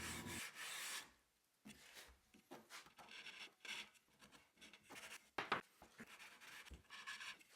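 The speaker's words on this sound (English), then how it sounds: "I also sand the bottom at this time." Sanding a wooden kitchen cabinet end panel by hand, cleaning edges and the bottom, gives bursts of rasping abrasive rubbing in repeated strokes with short pauses, close and fairly quiet, with no talking.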